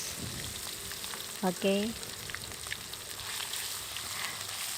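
Ground spice paste sautéing in hot oil gives a soft, steady sizzle and crackle throughout, with a brief spoken word partway through.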